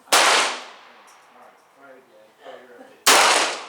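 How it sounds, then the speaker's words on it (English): Two sharp gunshots fired at a target on an outdoor range, one at the start and another about three seconds later, loud and close with a ringing decay, and faint voices murmuring in between. "Just shooting for a group over there on the target."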